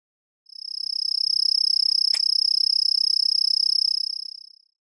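A cricket's shrill, steady chirping trill, high-pitched and continuous, pulsing rapidly for about four seconds with a brief click partway through, heard alone and close.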